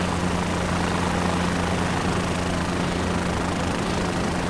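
Helicopter engine and rotor spooling for lift-off in Microsoft Flight Simulator, a steady loud turbine whine over a constant low rotor hum with no break.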